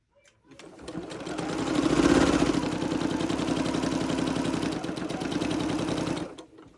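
A sewing machine stitching quilt strips runs in one continuous steady whir for about six seconds, close and fairly loud, starting and stopping cleanly with no talk over it.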